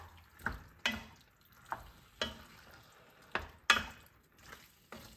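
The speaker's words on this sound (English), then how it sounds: "Stir that around." A spoon stirs roasted crushed tomatoes in a soup pot, giving soft scraping swishes and light knocks roughly every half second over a faint sizzle, close and quiet.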